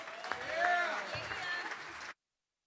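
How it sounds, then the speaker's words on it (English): Audience applause at a graduation ceremony for a class of Missouri Realtors during an annual meeting, with a sustained wash of clapping and crowd noise that cuts off abruptly. "Let's give another round of applause for the 19th graduating class of Missouri Realtors."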